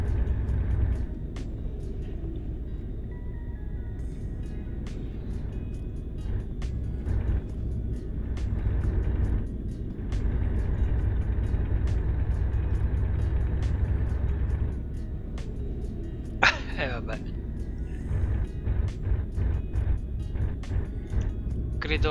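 A Turbo Star car drives along in Ralf's garage setting, its engine giving a steady low rumbling drone that holds throughout with mild swells and a brief sharper burst near the end, fairly close and continuous.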